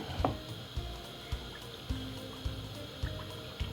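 Whole milk is poured from a carton into a jug of cornmeal in a home kitchen, a soft continuous trickle with intermittent low thumps and splashes, close and fairly quiet.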